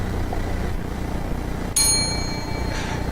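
A single bell strikes once, ringing out clearly over a steady low background rumble and then decaying slowly with a long, bright shimmer.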